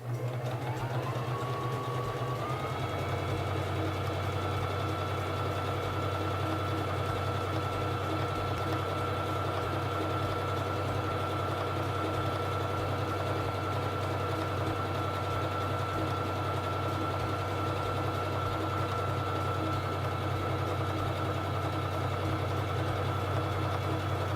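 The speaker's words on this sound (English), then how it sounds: "Now I'm going to sew the honeycomb stitch. Bring down the presser foot lifter and begin sewing." A Singer 3333 sewing machine runs steadily through a honeycomb stitch, its motor hum and rapid needle chatter holding an even, continuous rhythm up close after a short spin-up at the start.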